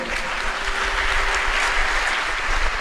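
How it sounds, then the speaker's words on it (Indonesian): A crowd at a graduation ceremony claps steadily for several seconds, a dense, even wash of applause with no voices over it. "Tepuk tangan dong."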